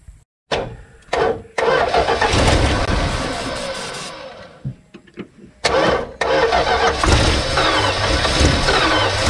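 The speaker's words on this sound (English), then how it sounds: "we should be ready to fire it over and see if it runs under its own power" A Dodge Dart's engine is cranked and started: short bursts of cranking, then the engine catches and runs roughly, stumbles, is cranked again and fires back up to a loud, close idle.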